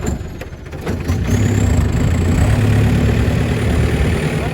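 A tractor used for ploughing rice paddies runs loud and steady nearby, a heavy low rumble that rises slightly after the first second and holds.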